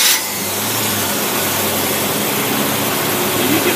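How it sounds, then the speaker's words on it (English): A carbureted Predator small engine idles at about 800 RPM, giving a loud, steady, continuous rumbling drone that stays close and unbroken throughout. "you get a Predator running at 800 RPM like that, it's very, very rare."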